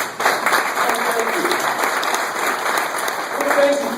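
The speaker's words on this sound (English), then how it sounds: "Everybody give all the veterans a round of applause, please." Crowd applause for veterans at a VFW candidate forum in Benson, Arizona: steady, dense clapping that fills the room for about four seconds, with a faint voice mixed into the noise.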